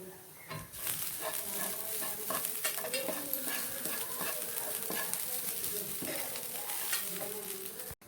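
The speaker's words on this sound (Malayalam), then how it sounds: "അപ്പോൾ തേങ്ങ വറുക്കാൻ വേണ്ടിയിട്ട് പാനിലിട്ട് അപ്പം നമ്മൾ അരിഞ്ഞ് വെച്ചിരുന്ന അണ്ടിപ്പരിപ്പും മുന്തിരി തേങ്ങ വറുക്കണതിലേക്ക്" Chopped cashews and raisins fry with coconut in a hot pan, giving a continuous close sizzle broken by repeated scraping stirs of a spoon.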